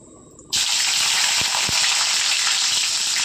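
Green chilies hit hot oil already crackling with curry leaves in a tempering for poha, bursting into a loud, steady sizzle after a brief quieter start, with a few sharp pops and no talking.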